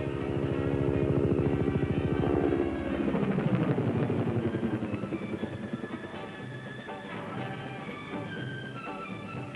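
Attack helicopters fly during a battle, heard as a loud, steady rotor drone with rhythmic blade chop that slowly fades and shifts in pitch, with no voices.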